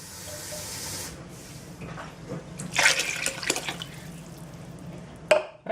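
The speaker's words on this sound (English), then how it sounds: "And fill the rest up with water." Tap water pours into a pot of beans, a running splashing stream with a few clinks and knocks of handling partway through and near the end, close and without talk.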